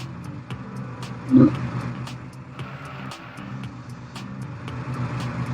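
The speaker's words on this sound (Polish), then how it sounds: "ale tym autobusem się ciężko jedzie" A bus drives in a Roblox car-destruction game, a steady low engine drone with one brief louder thump and faint periodic clicks throughout.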